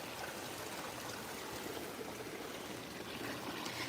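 Water flowing down a stream channel with an L-shaped bend into an aquascape garden pond, a steady close rush and trickle without pause and with no voices.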